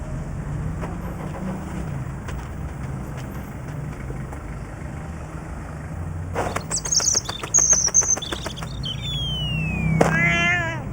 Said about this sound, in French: il y a un petit oiseau qui est tombé du nid